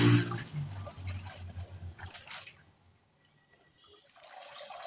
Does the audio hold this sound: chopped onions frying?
no